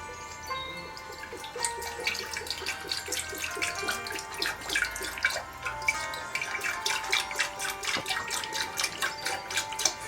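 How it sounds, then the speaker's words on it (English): Orange mocktail mixture is poured into a jug, a continuous gurgling, splashing liquid stream with bubbly tonal glugs that stays steady for about ten seconds, close by and without any voices. "Now we have shaken our mixture, and I'm going to pour our mixture."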